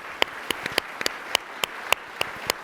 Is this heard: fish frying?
no